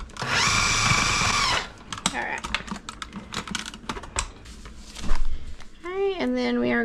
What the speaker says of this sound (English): We are going to pulse this together. I'm using my food processor